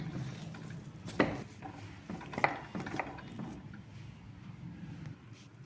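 A spoon scrapes and knocks against a bowl while mashed potato is mixed with salt and spices for aloo paratha filling, a few soft clinks over a low, faint background.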